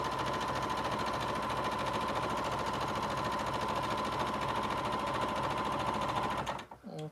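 A sewing machine stitches a seam in fabric for a sling bag, running as a steady, close, continuous mechanical whir with fast needle rhythm for about six seconds before stopping abruptly.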